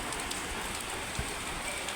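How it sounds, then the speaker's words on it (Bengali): Steady rain falling, a soft even hiss of drops on surfaces with a few slightly louder taps, constant throughout and fairly quiet. "বৃষ্টি পড়তেছে।"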